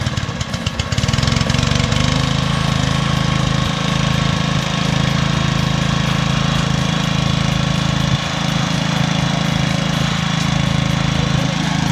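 An engine-driven water pump drains a fish pond with a loud, close, continuous mechanical drone and chugging rumble that holds steady throughout, with no talking.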